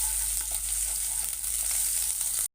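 Ginger garlic paste sautéing in about five spoons of hot oil for a Tamil chilli idli fry, a steady loud sizzle with stirring, cut off abruptly at the end.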